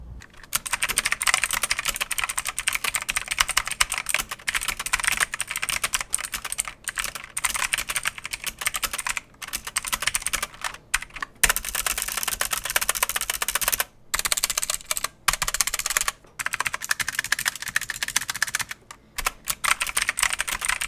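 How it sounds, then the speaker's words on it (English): Close, continuous typing on a Keychron Q1 Pro and an older computer keyboard, with dense, rapid keystroke clatter broken by brief pauses and no talking. "now let's do a sound test compared to my old keyboard"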